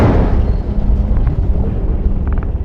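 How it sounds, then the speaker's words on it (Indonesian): A mysterious explosion in a film rolls out as a loud, deep rumbling roar. It is sustained and dense for nearly three seconds, with no distinct sharp onset and no speech. "Film dimulai dengan suara ledakan misterius yang bersuara entah dari mana."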